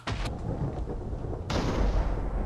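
Thunder rumbles through a storm in a Minecraft-style building game, a dense, noisy roll with a sharp fresh crack midway, steady and fairly loud, with no talking over it.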